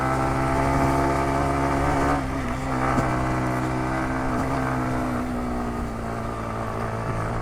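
A motorcycle engine is held high in second gear on a rough, broken road. It makes a steady, loud droning hum that dips and surges slightly as the bike rolls over bumps.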